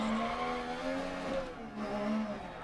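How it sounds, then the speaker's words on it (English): A rally car engine in the game Dirt Rally, on a Monaco stage, revs high. The engine note holds at high pitch with strong, steady harmonics, wavering slightly as revs rise and dip, with no talk over it. "it revs so high and it's such a good sound when you get to those high revs"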